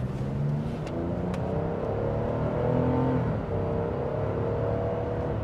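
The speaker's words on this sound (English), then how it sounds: "the engine noise you do hear during acceleration" A 2025 Nissan Frontier Pro-X pickup truck accelerates on the road, its engine giving a steady, moderate rising hum with faint road noise inside the cab.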